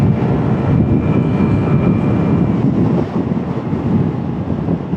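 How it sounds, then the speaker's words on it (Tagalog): Strong wind roars steadily against the microphone in a dense low rumble while riding a Vespa Primavera 150 near top speed, with a faint engine drone underneath throughout. "Lakas ng hangin."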